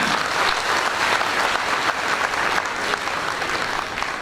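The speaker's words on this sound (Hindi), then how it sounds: "शशि भूषण जी के लिए पुनः एक बार जोरदार तालियां।" Sustained, dense audience applause for a speaker at a Hindi-language event, steady and loud throughout with no talk over it.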